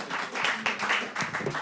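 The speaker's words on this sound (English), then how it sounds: "So give yourselves a round of applause." Live podcast audience clapping in a small intimate venue, a dense steady patter of many hands at moderate level, swelling slightly midway and continuing throughout.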